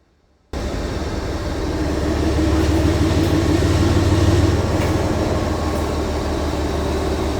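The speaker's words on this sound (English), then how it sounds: "just look at this sharp locomotive. NS 8184, I think that's what that says." A Norfolk Southern diesel locomotive passes close by, its loud, steady rumble and rolling rail clatter starting abruptly and holding strong throughout without any talk.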